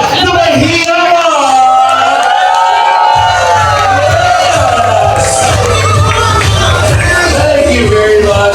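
A crowd at a Christmas ball party shouts and cheers loudly and continuously, with whoops and raised voices blending into a close, dense roar.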